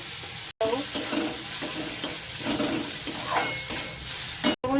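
Finely chopped onion fries in oil after a tempering of cinnamon, dried chilli and cumin, a steady close sizzle broken by repeated stirring scrapes, with a couple of brief cuts in the sound.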